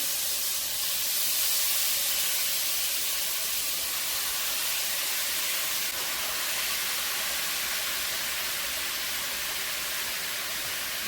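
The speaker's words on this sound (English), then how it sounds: "Put that in and hear that sizzle" Loud, continuous hissing sizzle of food frying in a hot pan, steady and close throughout without talking.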